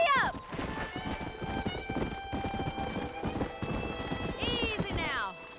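A horse gallops in Red Dead Redemption, with quick, close hoofbeats and a couple of high whinnies at the start and near the end, while a voice speaks over the hooves.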